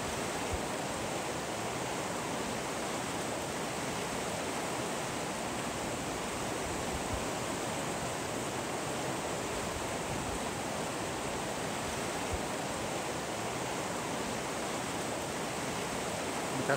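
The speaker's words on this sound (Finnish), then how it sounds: "Eli koski tulee kahta puolta" Rapids on the Kitka river in Kuusamo rush past a river island in a steady, dense roar that holds even and unbroken throughout, loud and close with no voices.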